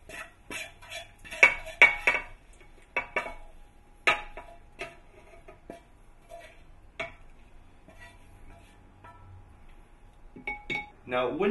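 Dishes and cutlery clinking and scraping as a Ukrainian pan scramble is served, a scattered series of close, light metallic taps and knocks with quiet gaps between.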